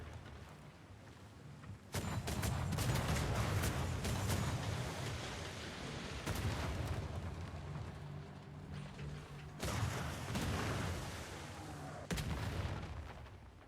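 Video game artillery fire, deep booming blasts and rumbling explosions layered over a constant heavy mechanical background, with several louder bursts scattered through the stretch.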